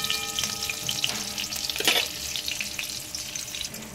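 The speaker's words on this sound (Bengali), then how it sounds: "এবার দিয়ে দিচ্ছি ফোড়নে একটু হিং দিয়ে দিলাম।" Asafoetida dropped into hot oil for tempering while cooking a ridge gourd dish, giving a bright, continuous sizzle with crackles, briefly flaring louder midway as the pan is stirred, then settling into steady frying.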